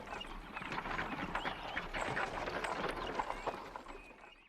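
Hooves of a horse pulling a carriage clip-clop in a faint, steady, even rhythm, heard at a distance against quiet background noise.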